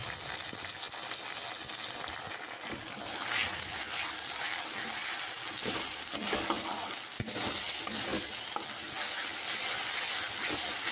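Masala with salt and turmeric sizzles steadily in hot oil for a rohu fish curry, a continuous loud frying hiss with occasional stirring scrapes.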